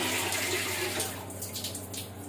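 Tap water gushing strongly into a sink or basin, a steady loud hissing, splashing rush that continues throughout, shifting slightly in tone partway as the flow hits the water or container.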